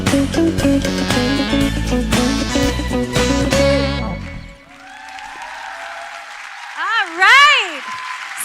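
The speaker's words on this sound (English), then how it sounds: "All right, keep clapping for them." An audience claps at a live church service as loud music plays and then drops out, leaving the clapping with a voice whooping and cheering near the end.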